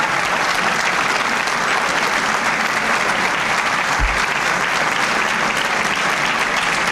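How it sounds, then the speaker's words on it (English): Standing ovation for Governor Jim Florio at his 1990 New Jersey state budget address: dense, steady applause from a large audience fills the hall without a break, loud and sustained throughout. "the governor is getting a standing ovation for his budget message"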